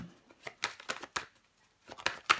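Tarot cards handled and laid down on a table: a series of short, crisp papery slaps and rustles, close and fairly quiet, coming in uneven bursts with brief pauses.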